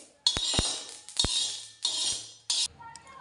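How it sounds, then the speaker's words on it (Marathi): A metal spoon scrapes and clinks against a pan while scooping out roasted flaxseed, four separate close scraping strokes with sharp clinks and short pauses between them. "आता जवस काढून घेतलं."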